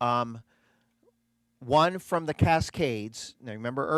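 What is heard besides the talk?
No everyday noise stands out behind the speech.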